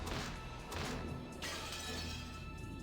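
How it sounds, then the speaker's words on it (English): Glass window smashing in the visual novel game Umineko, a loud, bright crash and shatter that repeats, with a fresh hard impact breaking through partway along, alone without speech. "The glass smashed with a violent sound"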